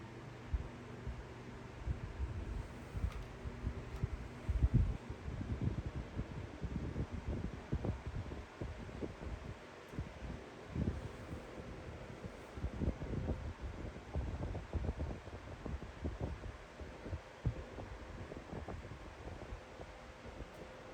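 Air rushing steadily from a Doracraft Chillout knock-off fan, a broad whooshing drone close to the microphone with low motor hum and occasional buffeting thumps, continuous with no talk.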